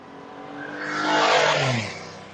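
A car engine runs close by on Little Mountain Drive near a vegetation fire, its steady drone swelling to a peak and then easing off over a couple of seconds, with no talking.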